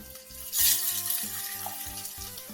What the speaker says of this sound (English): Add some white rice in there. Let that fry off a bit.